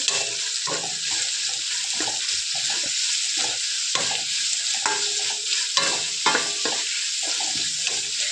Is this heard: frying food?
yes